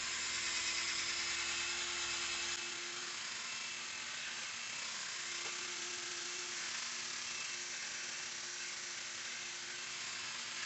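A machine polisher works Meguiar's Ultra Glaze onto a car headlight during restoration, giving off a continuous close whirring hum whose low rumble drops away partway through.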